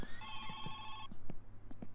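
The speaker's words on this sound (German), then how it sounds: "Oh, das Telefon klingelt." An old telephone rings in the Finnish countryside game My Summer Car, a brief electric bell trill lasting about a second, heard clearly over a low game hum with faint scattered knocks afterward.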